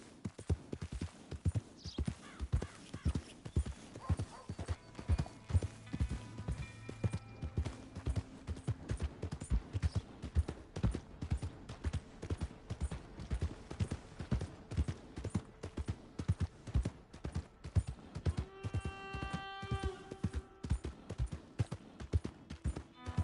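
Rapid, steady hoofbeats of a galloping horse in the video game Red Dead Redemption 2 fill the whole stretch, loud and close, with a few brief whinny-like tones partway through.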